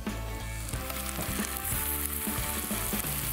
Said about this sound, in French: on rajoute le filet de sanglier qui va cuire vraiment rapidement